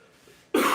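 A single sharp cough bursts out near the end, loud and close, after a stretch of quiet room tone while cakes are being decorated at home.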